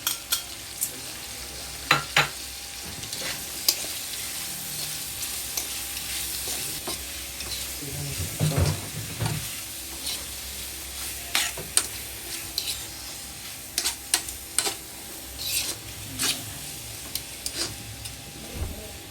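Sliced onions sizzle in a pan with pork steak for bistek Tagalog, a steady close frying hiss broken by repeated sharp scrapes and clicks of a spatula stirring, no voices.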